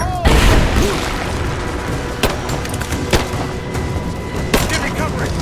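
Gunfire in the video game Rise of the Tomb Raider, with a heavy booming blast at the start and scattered sharp shots afterward over a dense, loud battle din. Voices shout over the combat.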